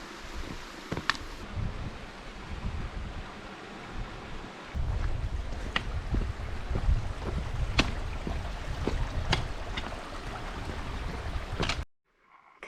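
A small mountain stream in primeval forest at Yaowanggu, Laishui, Fangshan, Beijing, flows with a steady, fairly close rushing wash that carries on unbroken before cutting out at the end.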